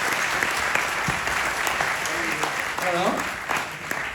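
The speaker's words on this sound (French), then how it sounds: "on va les encourager avec des applaudissements" Audience applause at the official presentation of a French Enduro Championship round, a steady wash of clapping throughout with a voice speaking briefly over it.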